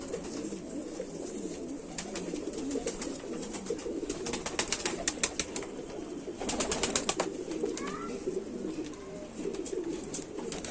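Young Rampuri pigeons coo softly in a repeated, throaty rhythm, with scattered sharp clicks and wing flutters heard nearby.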